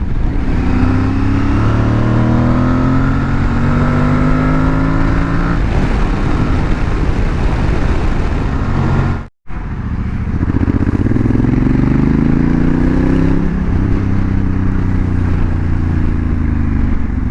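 An Aprilia Tuareg 660 motorcycle engine revs loudly and close up, rising in pitch in repeated surges. A brief cutout comes near the middle, then the engine climbs again.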